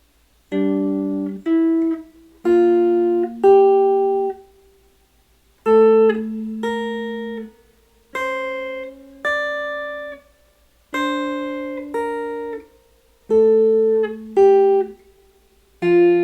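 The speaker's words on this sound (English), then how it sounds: "As our upper voice, let's do the scale up and down, but our lower voice, we're going to do the bass line at half speed." Two tones move together in a jazz study exercise: an upper line running a scale up and down over a lower bass line moving at half speed, clean sustained notes in even phrases with short gaps between them and no talking.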